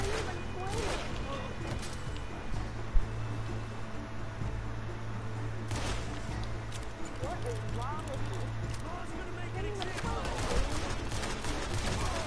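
Gunfire in Red Dead Redemption 2 cracks out in scattered sharp shots amid horse hoofbeats and a steady background hum, fairly distant and intermittent, with a voice talking over it.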